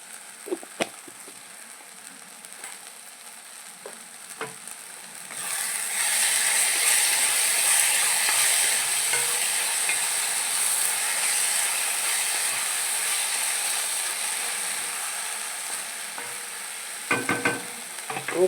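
Ivy gourd fries in a pan with a steady, soft sizzle, a few scraping stirs at the start and end, and no talk.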